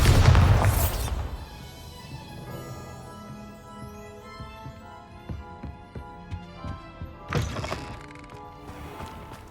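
A Bombarda spell explosion in the video game Hogwarts Legacy opens with a loud, deep boom, then scattered thuds and debris clatter, and a second burst near the end.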